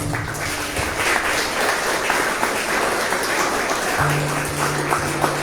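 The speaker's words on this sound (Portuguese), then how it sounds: "vamos dar uma salva de palmas" A crowd at a charismatic prayer gathering breaks into dense, continuous applause that holds at an even level, with a low sustained musical tone underneath.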